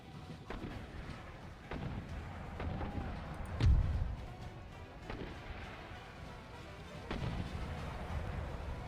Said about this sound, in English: Getting mortared to death.